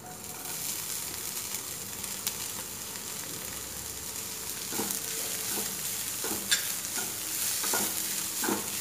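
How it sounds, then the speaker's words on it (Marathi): Two finely chopped onions sauté in a pan for masala bhindi, a faint, steady frying hiss that runs throughout, with soft stirring scrapes growing more frequent in the second half. "हा कांदा आपल्याला व्यवस्थित परतवून घ्यायचा आहे"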